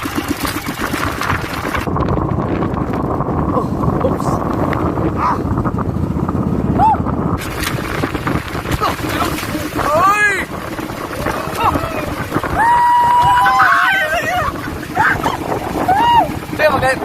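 Big sea waves slam and wash against a small boat in rough water, with a rushing, roaring surge, heavy wind buffeting and people talking over the noise throughout.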